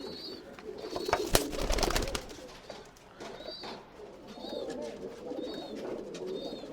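Tumbler pigeons in a loft give soft, repeated throaty coos close by. The coos come in short bursts among faint rustling, with a brief clatter near the start.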